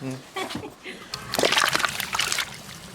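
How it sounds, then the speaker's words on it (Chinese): Beef hooves are scrubbed and rinsed in water, giving close splashing and sloshing bursts that run almost continuously through the second half, with a person talking at the start. "倒好的牛蹄子，再洗一下，上锅过一下水"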